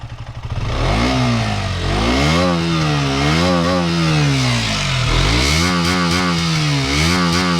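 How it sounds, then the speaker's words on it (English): A 2021 KTM Duke 125 motorcycle's exhaust barks loudly up close as the engine is revved repeatedly, the pitch rising and falling in several waves. "let's listen to the exhaust note and then we'll ride it"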